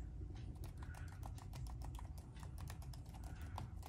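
Steady, rapid keystrokes on a computer keyboard, with a numeric lock issue that makes letter keys type numbers, clicking continuously and close up without speech.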